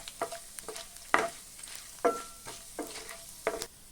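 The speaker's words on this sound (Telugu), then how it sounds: "అర టీ స్పూన్ పచ్చెనగపప్పు మినప్పప్పు అర టీ స్పూన్ జీలకర్ర కొద్దిగా ఆవాలు వీటన్నిటిని దోరగా వేయించుకోవాలి" Chana dal, urad dal, cumin and mustard seeds roasting in a pan, heard as a quiet series of short scraping stirs and crackles spaced about half a second apart.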